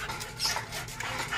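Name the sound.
dog panting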